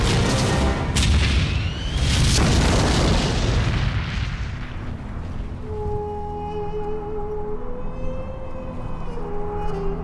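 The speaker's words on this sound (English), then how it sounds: "Two tank armies clash on a remote strip of desert." Desert tank battle rages with heavy booming explosions and artillery blasts, loud and close at first, then fading into a rumbling aftermath with distant tonal sounds.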